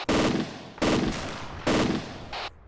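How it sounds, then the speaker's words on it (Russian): Gunfire in the military game ArmA 2 with the ACE mod: three loud, evenly spaced heavy shots a little under a second apart, each with a long rolling decay, then a shorter, fainter fourth burst. "О, орудие бахает."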